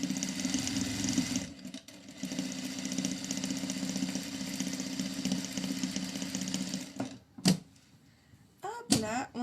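A sewing machine stitches a fabric hood on the cotton side with a steady, close motor hum that runs for several seconds and then stops, followed by a few short sharp handling noises.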